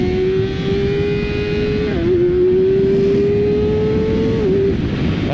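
A 2019 Kawasaki Ninja ZX-6R sportbike revs hard and accelerates into a wheelie, its engine note climbing steadily with a brief dip at a gear change, loud and close throughout.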